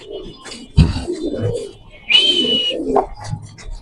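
White Bombay pigeons at a large pigeon farm in Mirpur 13 coo in low, rolling bursts close by, with people talking over them and a sharp higher chirp partway through.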